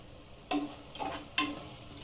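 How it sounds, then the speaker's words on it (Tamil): Tomato rice ingredients are stirred in a pan, giving three quick scraping, clinking strokes about half a second apart, quiet and close with no talk. "எல்லாத்தையும் நல்லா கிளறி விடுவோம்."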